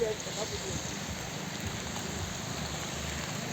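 Heavy rain falls steadily on a flooded fair with damaged food stalls, a continuous even hiss with a low rumble underneath, close and unbroken.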